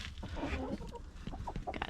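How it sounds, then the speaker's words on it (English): Chickens in a coop at night give soft, scattered clucks and low murmurs, close by and fairly quiet. "All right, we have 9 chickens."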